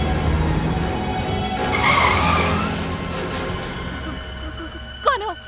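A car driven fast roars and hums steadily, then ends in a brief sharp tire squeal near the finish, loud and close, with some talking mixed in.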